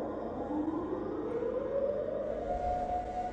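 A long, rising mechanical siren wail from the Siren Head monster in a horror game drones steadily throughout, loud and sustained over a low rumbling background.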